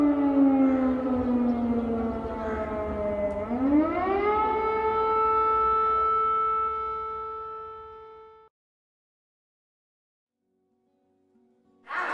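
A civil defense air raid siren winds up and rises into a loud, steady mechanical wail, holds the tone, then cuts off into silence before a brief noise returns at the end.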